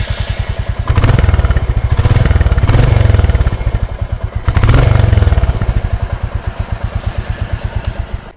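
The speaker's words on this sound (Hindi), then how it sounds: "एक बार मैं आपको इस बाइक को स्टार्ट करके इसका एग्जॉस्ट नोट सुना देता हूँ।" A 2023 Royal Enfield Bullet 350 single-cylinder motorcycle runs close by with a steady thumping idle and two rising blips of throttle, its exhaust note pulsing evenly with no talk.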